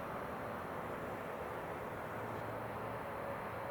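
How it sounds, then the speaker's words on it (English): A plane taking off from Stockholm Arlanda Airport gives a steady, distant broadband engine roar, faint and unbroken, with no voices over it. "Let's look at that plane taking off over there."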